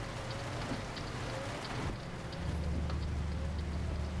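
Steady rain pours during a nighttime thunderstorm in Euro Truck Simulator 2, a dense, even hiss with a low rumble swelling beneath it partway through.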